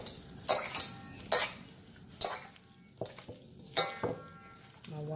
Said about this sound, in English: My watch is hitting the bowl, making a weird sound.